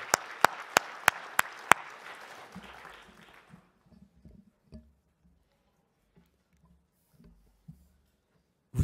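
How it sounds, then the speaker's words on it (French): An audience applauds at the Isegoria 2016 lecture, a dense wash of clapping punctuated by several sharp, close individual claps, fading out within a few seconds into a quiet room with faint scattered thumps and rustles. "Un tonnerre d'applaudissements s'il vous plaît."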